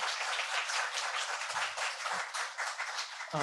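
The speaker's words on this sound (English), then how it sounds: "please give him another round of applause" Applause at a church Sunday service for a speaker: steady, dense clapping from a congregation, filling the whole short stretch alone with no talk.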